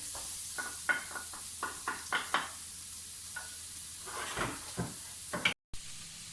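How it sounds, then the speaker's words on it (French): Escalopes searing in a well-heated wok give a steady soft sizzle and hiss, broken by a string of short stirring scrapes and clinks close by, with no voices. "Pendant que les escalopes sont en train de revenir"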